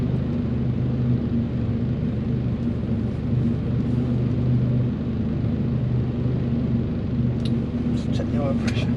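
A turbocharged Mk2 Golf engine runs steadily with its boost being wound up, a loud, continuous low drone and rumble that holds for the whole stretch.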